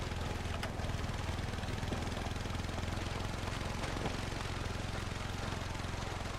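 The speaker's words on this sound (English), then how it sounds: "You can hear the wind howling over the heavy engine." A heavy vehicle engine drones steadily under a dense, whooshing mountain wind in a video game, with a few faint clicks and knocks, and no voices.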